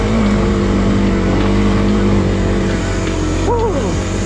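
A Kawasaki KLX250 dual-sport motorcycle drones continuously over rocky ground, loud and close, its engine note rising and dipping with throttle changes near the end.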